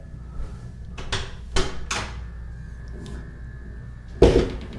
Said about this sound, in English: What you might not expect is a little secret door.